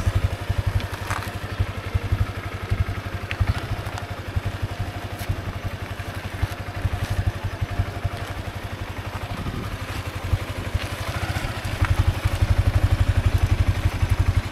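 A motorcycle engine runs close by with a steady, throbbing low rumble and occasional clattering and crackling.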